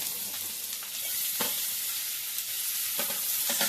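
Bitter gourd pieces with chili powder and salt cooking in a pan, producing a soft, steady sizzle with occasional light stirring taps, fairly quiet and without speech.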